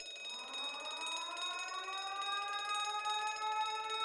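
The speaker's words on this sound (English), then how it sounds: "Why is there an alarm going off?" A steady electronic alarm rings continuously in The Great Ace Attorney, a bright warbling tone with rising sweeps layered over high sustained pitches, loud and unbroken with no talk.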